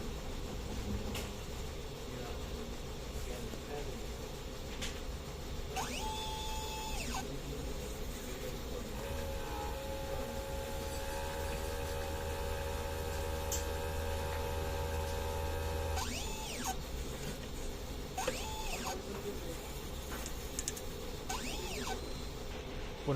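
An inkjet printer runs a print-head cleaning cycle, with low, steady mechanical whirring and several rising and falling motor sweeps over about twenty seconds, quiet and without speech.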